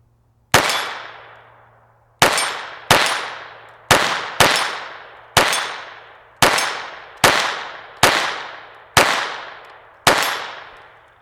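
Ten sharp .22LR pistol shots from a SIG P322 Competition ring out at an irregular pace, each crack loud and close with a short decaying ring, separated by pauses of roughly a second.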